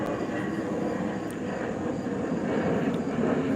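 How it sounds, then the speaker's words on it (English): Airplane passing overhead, heard as a steady broadband roar that holds level and continuous throughout, with no voices. "I can hear the airplane."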